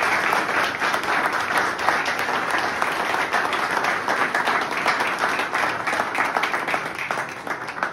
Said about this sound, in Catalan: un aplaudiment per tots vosaltres per poder fer-ho